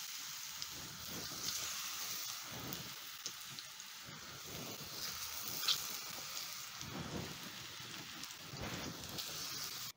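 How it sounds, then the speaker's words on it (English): Plantains shallow frying in cooking oil in a pan give off a steady, fairly quiet crackling sizzle dotted with small pops, with no voices over it. "And then I'm going to place my plantains in the pan."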